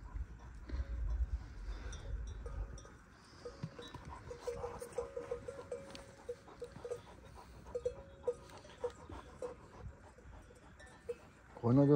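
Flock of Arab sheep on a mountain pasture, scattered hoof steps and rustling movement with occasional faint bleats and a bell tinkling, fairly quiet and spread out through the scene.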